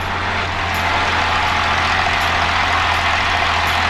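A light aircraft piston engine runs at steady power during a magneto check before takeoff, a loud, close, continuous drone with a strong low hum and no talking.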